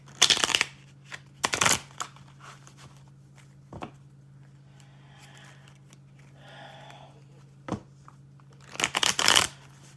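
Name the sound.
shuffling cards from a tarot-style confirmation deck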